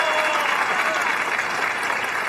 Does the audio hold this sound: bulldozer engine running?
no